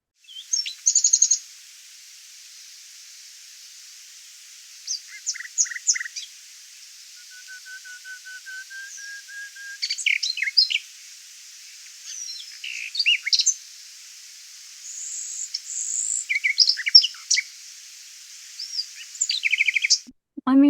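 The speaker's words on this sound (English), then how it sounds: "there are very few things as beautiful as the song of the nightingale" A nightingale sings alone in short, varied bursts of bright whistles, trills and chirps separated by pauses, fairly close and clear over a faint steady hiss.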